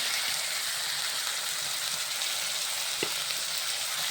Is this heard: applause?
no